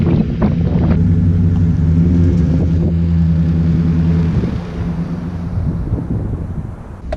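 A Chevrolet Silverado Z71 truck rolls along, its engine a steady low drone with wind buffeting the microphone, loud and close, easing slightly toward the end.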